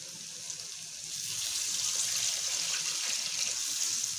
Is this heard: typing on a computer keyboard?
no